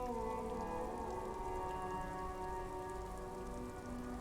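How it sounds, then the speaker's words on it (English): Rain falls steadily on a police motor carriage in the video game Disco Elysium, a soft, continuous patter with quiet low tonal music underneath and no speech. "Droplets of rain fall on the white on blue police livery of the motor"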